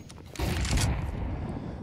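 A single heavy AWP sniper rifle shot in a Counter-Strike esports match, a sharp loud crack with a short booming tail, standing alone.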